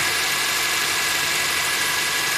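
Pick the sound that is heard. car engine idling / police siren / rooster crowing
car engine idling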